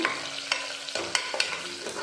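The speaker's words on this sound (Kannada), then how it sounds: "ಈಗ ಇದನ್ನು ಚೆನ್ನಾಗಿ ಫ್ರೈ ಮಾಡಬೇಕು ಕರಿಬೇವಿನ ಸೊಪ್ಪು ಹಾಕ್ಕೊತಾ ಇದ್ದೀನಿ" Onions and curry leaves fry and get stirred in a pan, with a steady sizzle broken by several sharp spoon scrapes and clanks at close range, no voices.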